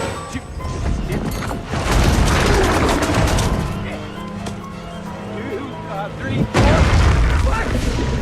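A grenade blast bursts in a grim post-apocalyptic survival story, a loud booming roar with rumbling debris that swells, dips, then hits again near the end, under a steady narrating voice.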